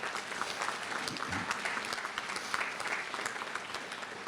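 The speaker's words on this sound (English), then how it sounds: "So give yourselves a round of applause" An audience at an elementary school grand opening claps steadily, a dense wash of applause from a sizeable crowd that holds at a consistent level throughout.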